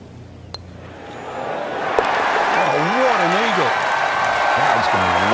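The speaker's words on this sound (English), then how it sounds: "Crowd's going wild out there." A golf gallery in EA Sports Rory McIlroy PGA Tour cheers and applauds, the roar building and holding loud while a whistling, wavering tone rises over it.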